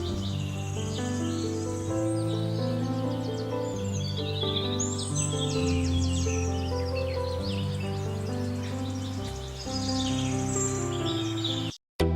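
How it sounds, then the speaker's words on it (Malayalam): Several birds chirp and trill across a calm outdoor scene in Idukki, Kerala, their calls overlapping steadily, with a faint insect hum underneath and no voices. "കുറച്ച് കിളികളൊക്കെ കരയുന്ന സൗണ്ട് മാത്രമേ ഇതിനകത്തുള്ളൂ"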